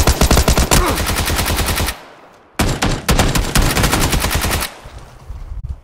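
Rapid automatic gunfire in a video game comes in two loud, close bursts with a brief pause between them and a short quieter tail at the end.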